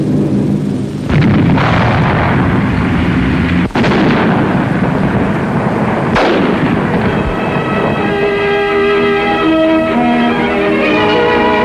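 Germans blow up bridges to slow the Allied advance. Three heavy booming detonations land a few seconds apart, each followed by a long, loud rumble, and sustained droning tones come in near the end.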